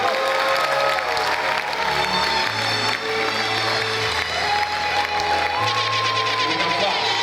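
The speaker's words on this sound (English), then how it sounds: "Can I get a round of applause?" Steady applause from an audience at a business presentation, a dense wash of clapping with some crowd noise, heard under loud playing music with deep sustained bass notes.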